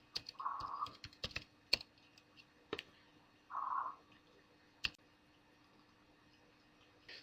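Sparse keystrokes on a computer keyboard while a SQL server name and password are entered: a few quiet, separate clicks and short bursts in a near-silent room.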